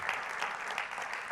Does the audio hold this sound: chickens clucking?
no